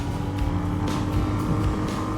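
A Royal Enfield Hunter motorcycle engine pulls hard in third gear with a steady, loud, close droning note and the rush of wind, and no talking over it.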